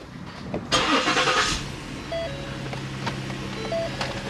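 A Ford Taurus with its front bumper removed cranks over and its engine catches, a short starter burst followed by a steady idle with faint high whine, close by.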